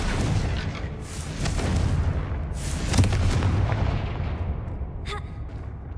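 Confringo fire spell blasts in Hogwarts Legacy burst in quick succession as loud, booming explosions with rumbling low end, one sharp crack near the middle and a fainter burst near the end, over continuous game noise.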